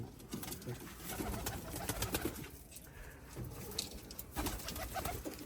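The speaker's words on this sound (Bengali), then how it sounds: "এটা মাদি কবুতর" Pigeons coo inside their loft, soft overlapping calls repeating throughout with rustling and wing movement, fairly quiet and without speech.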